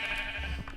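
A sheep bleating in a Minecraft modpack game, one short nasal bleat over steady game background noise.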